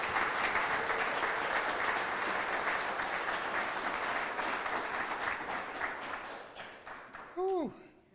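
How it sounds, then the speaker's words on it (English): A crowd gathered at the opening of Bantam Tools in Peekskill, New York, applauds loudly and continuously. The clapping fades toward the end, where a short whistle-like sound cuts in. "I want you guys to please give him a round of applause as if we're in Madison Square Garden"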